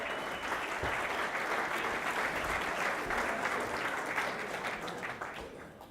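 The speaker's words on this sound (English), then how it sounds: "give this young lady a round of applause" An audience at a conference claps for a volunteer heading to the stage, a broad continuous wash of applause that holds steady for several seconds and then tapers off near the end.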